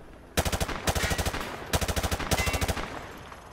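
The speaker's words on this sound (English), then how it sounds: "He sprayed bullets all over the damn place." Two long bursts of rifle fire spraying bullets at range targets in Call of Duty: Modern Warfare 2, loud rapid automatic shots in a steady rhythm, with a short pause between the bursts.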